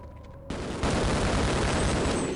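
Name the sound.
gunfire from video game Half-Life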